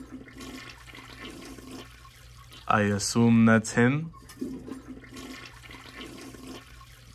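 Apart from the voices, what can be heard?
toilet flushing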